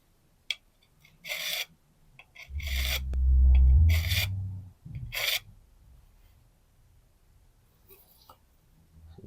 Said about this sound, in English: then just gently push up and slowly remove that burr